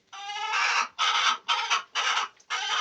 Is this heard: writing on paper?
no